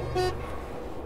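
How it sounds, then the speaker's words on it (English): A car horn honks in the horror game Escape the Backrooms, a short steady toot standing out clearly at the start and fading into a low game ambience. "Why is it honking?"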